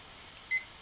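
A single short electronic timer beep, clear against a quiet room, sounds as the countdown begins during a live online auction of glossy 12 by 12 inch art pieces.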